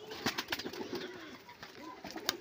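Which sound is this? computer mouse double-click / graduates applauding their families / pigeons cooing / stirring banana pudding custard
pigeons cooing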